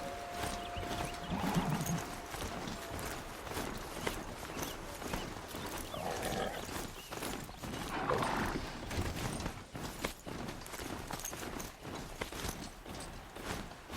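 Steady clip-clop hoofbeats of a mechanical horse-like Strider walking in Horizon Zero Dawn, continuous over a busy background of game ambience, with brief tonal chimes.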